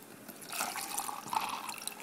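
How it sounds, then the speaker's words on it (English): Water is poured into a shaker cup already holding ice for a protein shake, a steady close splashing trickle that swells and gurgles for about two seconds with no talking. "I'm going to go ahead and pour in my water."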